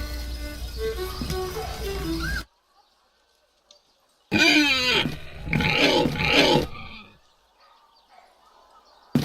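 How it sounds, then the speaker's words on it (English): Pigs grunt in The Dark Eye: Chains of Satinav video game: a short burst of snorting grunts and squeals, close and fairly loud, following a stretch of background music and silence. "Those pigs are being fed enough."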